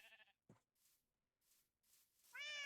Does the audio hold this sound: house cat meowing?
yes